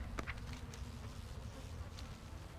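Buzzing of bees in World of Warcraft, a steady, low insect drone that holds evenly throughout at a soft level, with a few faint higher chirps and clicks above it and no talking.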